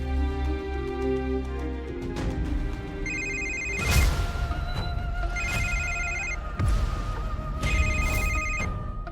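A telephone rings with an incoming call, sounding in three separate electronic trilling bursts at a steady interval, loud and close, with no talking over it.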